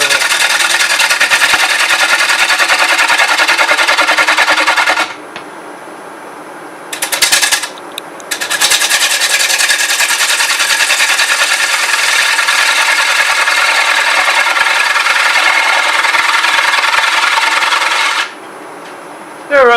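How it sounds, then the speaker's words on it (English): A spindle gouge cuts the bottom of a wooden bowl on a spinning lathe, giving a loud, steady rasping scrape that breaks off briefly twice and then carries on alone until the cut stops. "I usually work this with a spindle gouge, starting on the outside edge"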